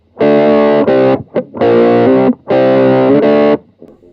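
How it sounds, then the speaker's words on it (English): Hollow body electric guitar played through a cocked wah-wah pedal, giving a nasal, mid-focused distorted tone in three loud sustained chord bursts with short gaps and a faint trailing note. "sounds like a cocked wah-wah pedal, which is cool"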